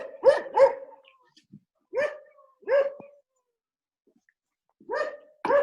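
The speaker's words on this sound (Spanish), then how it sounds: "¿Se oyen un perrito?" A small dog barks in short, sharp pairs and singles, spaced out with quiet gaps between, fairly close and clear with no other sound.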